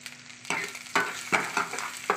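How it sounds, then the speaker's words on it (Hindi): A spoon scrapes and stirs spices, oil, coconut powder and kasuri methi into chicken handi in a pan, giving five distinct rhythmic strokes over a soft sizzle. "और इसे हम अच्छे से अभी मिला लेंगे।"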